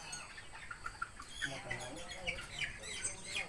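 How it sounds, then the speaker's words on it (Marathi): Chickens in a poultry shed give scattered short clucks and chirps over a steady low barn hum, fairly close and moderately loud, with faint voices in the background. "आज आम्ही कोंबडीच्या प्लॉटमध्ये आलेलो आहे."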